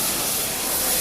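Pork loin searing in a hot pan, a dense, loud, continuous sizzling hiss filling the whole brief moment with no talking.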